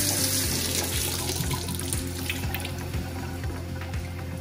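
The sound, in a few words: rinsing zucchini flowers under a running tap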